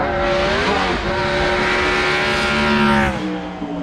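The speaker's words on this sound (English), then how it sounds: "the V16 BRM in the hands of Ron Hall, again, it was a good idea" V16 BRM racing car driving up the hill at the Goodwood festival, its engine howling loud and close in a sustained high-pitched wail with rising revs, pitch shifting as it accelerates past.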